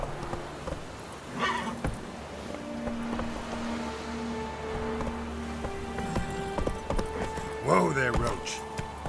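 Roach, a horse in The Witcher 3, clip-clops along with rhythmic hooves and snorts, then lets out a loud whinny near the end, with game music tones running underneath and talk present.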